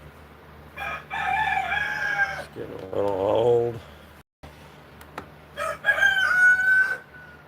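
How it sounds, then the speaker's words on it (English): Roosters crow outdoors on a rural property: two long, loud crows with a shorter call between them, close by, over a faint steady background, while someone speaks briefly. "Oh God, these roosters."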